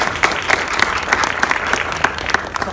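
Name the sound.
applause for the New Crown Star Directors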